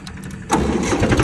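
A tractor engine cranks and catches partway through, then settles into a loud, close, rumbling run.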